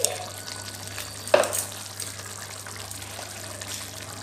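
Water left from rinsing a spice bowl is poured into a cooking pan for a fish curry, a brief liquid splash close by over a low steady hum.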